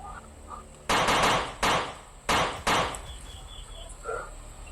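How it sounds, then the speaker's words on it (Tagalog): Gunshots crack out in a rapid burst of three, then two more sharp reports after a short pause, loud against quiet background with faint distant shots. "May mga putok."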